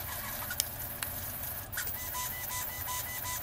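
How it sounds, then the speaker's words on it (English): CoreXY 3D printer moving at high speed, a faint continuous mechanical whir with quick clicks and short rising tones as the head changes direction, no talk. "So now you definitely start to hear it a little bit more, but it's going faster than you're ever going to be printing."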